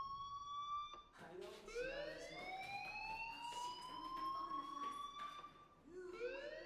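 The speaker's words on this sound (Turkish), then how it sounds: "Hey, do you hear that fire alarm?" A fire alarm in Life is Strange wails with rising siren-like sweeps that repeat steadily, fairly loud, while a voice talks over it.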